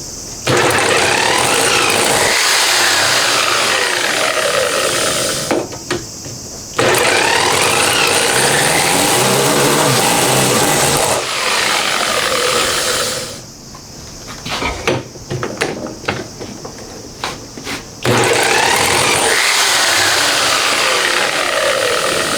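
A Honda Monkey converted to a 124.4cc four-cylinder engine, with a homemade starter, undergoes a start test: long, loud, harsh whirring cranking bursts broken by brief silences, close by.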